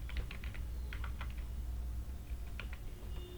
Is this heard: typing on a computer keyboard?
yes